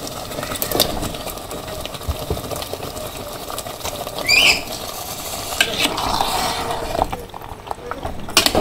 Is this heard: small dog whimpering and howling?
no